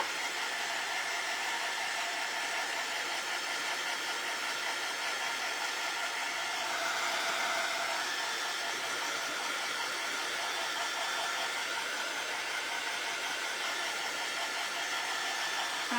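A hair dryer blows steadily to dry paint on a chip brush being crafted into Uncle Sam, a continuous close whooshing roar that holds for the whole stretch with a slight swell midway.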